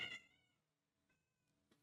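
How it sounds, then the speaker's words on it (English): A cat meows once, clear and close, then gives a couple of faint, short follow-up sounds in an otherwise quiet space. "Do you hear my cat meowing?"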